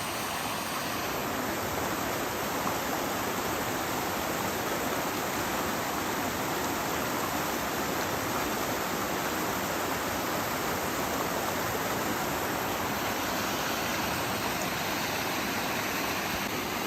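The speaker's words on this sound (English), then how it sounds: "So I noticed the waterfall here." A waterfall on a creek just below a campground at Roan Mountain State Park pours as a loud, steady broadband rush, unchanging and continuous from start to finish with no voices.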